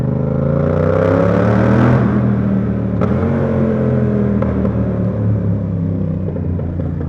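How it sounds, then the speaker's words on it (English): A Yamaha R7 motorcycle with a CP2 twin engine revs and drones inside a tunnel, its loud, steady exhaust note rising and falling with a sharp reverberant echo and no talking. "This bike sounds so nasty underneath a tunnel."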